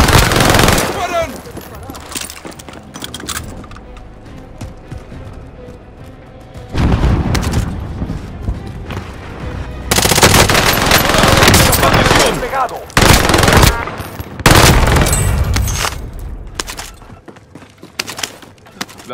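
Gunfire in the video game Warzone rattles out in several loud bursts of rapid automatic fire and booms, separated by quieter stretches of ambient battlefield noise, close and intense.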